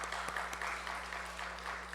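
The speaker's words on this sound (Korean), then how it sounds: "우리 감사하다고 박수하겠습니다." A church congregation claps together during a Sunday service, a modest, fairly quiet patter of hands with a low steady hum beneath it, lasting a couple of seconds.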